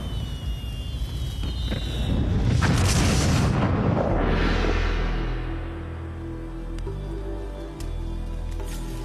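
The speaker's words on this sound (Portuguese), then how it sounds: "Explosões." Deep, rumbling blasts roll and swell into a heavy roar, then fade into a low, lingering rumble with scattered crackles.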